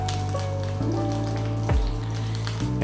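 Onion butter and seasoning blend sizzle in a hot skillet, a steady crackling fry heard close beneath low humming tones, with no talk.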